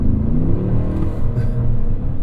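A 2025 Cadillac Escalade Platinum with a V8 engine accelerates at full throttle, a steady loud low rumble with rising harmonics building throughout, heard alone close up.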